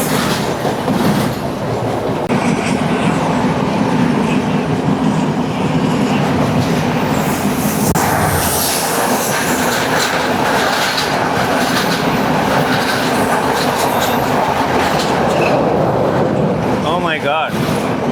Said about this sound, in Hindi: इतनी जल्दी ट्रेन का एक और क्रॉस आ गया